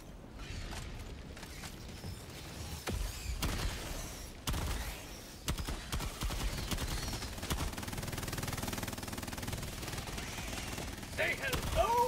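A deployed sentry machine gun in a video game fires in rapid bursts, with dense clattering gunfire and mechanical clanks running through most of the clip, fairly quiet in the mix while a voice speaks now and then.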